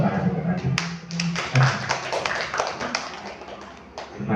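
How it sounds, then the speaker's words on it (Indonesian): Clapping and tapping at a school gathering of teachers and community members rise in a loose, uneven patter, with voices talking over it throughout. "Tepuk tangan untuk kami."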